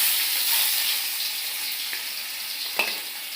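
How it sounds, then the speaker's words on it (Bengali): Bhola fish frying in a home kitchen pan, a steady close sizzle and hiss with a few faint stirring scrapes, heard alone. "এখানে আমি মাছ ভাজা করুম"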